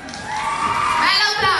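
A crowd at a Miss Ciclismo pre-final pageant cheers and whoops as a finalist is announced, a loud, steady burst of excited voices swelling toward the end.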